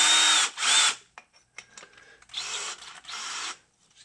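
A power drill with a large 39/64 bit bores a hole for a wheel bolt pattern change, in two loud whining bursts, then a quieter stretch of scattered clicks and handling noise, then two more strong bursts close up.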